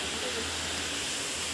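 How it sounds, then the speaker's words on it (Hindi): Water gushes through a gate at Tikhali dam in Nuapada district, an unbroken loud hissing roar close by, with a voice briefly heard over it. "इस साइड से पानी जा रहा है"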